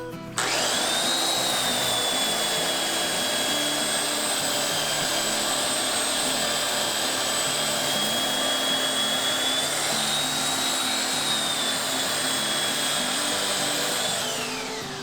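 A power sander works on a boat windshield frame, running in one continuous, loud, high-pitched whine that holds steady for about fifteen seconds before winding down.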